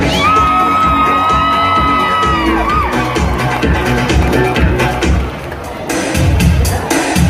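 A large rodeo crowd in Elko, Nevada cheers and whoops loudly, with a long sustained yell rising over the din and continuous shouting throughout.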